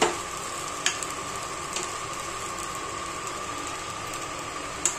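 Boiled potatoes are added to a pan for fasting khichdi and fry with a constant close sizzle, broken by a few sharp spoon-on-pan clinks and scrapes.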